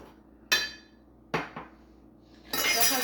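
Raspberry syrup being mixed in a pot over medium heat: a few sharp, separate metallic clinks of a utensil against the pot, then a louder, sustained hissing burst near the end.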